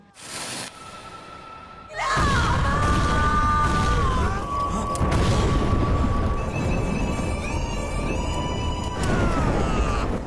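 A car explosion in an Indian action film bursts in with a loud broadband blast, then a sustained roaring rumble continues with dramatic tonal sounds layered over it.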